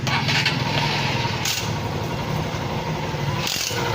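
A Honda XR150 motorcycle engine, its carburetor just cleaned, cranks and catches, then settles into a steady, fairly loud idle with a couple of brief revs.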